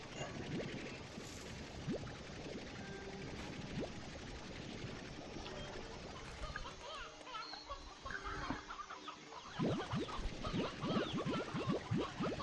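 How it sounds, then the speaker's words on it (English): Chickens clucking on a farm in the video game Slime Rancher 2, a busy flock of short clucks and calls throughout, denser and louder toward the end, with some game sounds mixed in. "So many chickens!"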